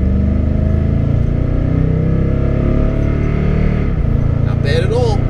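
A Toyota Tundra Double Cab pickup pulls out and accelerates, its engine a loud, close, steady rumble rising slightly in pitch, with a short tonal chirp near the end.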